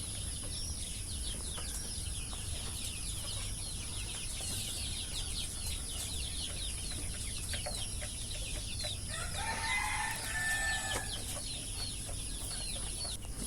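Desi chickens, 45-day-old chicks and hens, cluck and chirp constantly in a shed under a steady background hum, with a denser burst of calls near the end.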